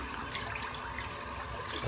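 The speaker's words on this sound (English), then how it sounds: "Just rinsed off with some hot water." Hot water runs steadily from a bathroom tap into a sink while someone rinses off after a shave, a soft continuous splashing hiss heard close and alone.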